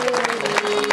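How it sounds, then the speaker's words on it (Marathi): An audience at a kirtan gathering applauds in a dense, steady patter of clapping, with a sustained tone ringing underneath. "आता एकदा स्पीकरवाल्यासाठी टाळ्या वाजवा जोरात वाजवा"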